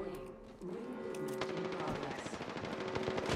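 Rapid automatic gunfire from a firefight in the battle royale game Apex Legends, a dense rattling burst that grows louder after the first half-second and keeps going with steady repeated shots over a sustained tone.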